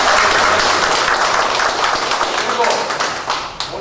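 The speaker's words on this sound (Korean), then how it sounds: "아주 감사했던 우리 회장님에게 박수를 한번 다시 드립니다." An audience applauding at a society gathering during a trip to China, with dense clapping that fades over a few seconds while a speaker's voice carries over it.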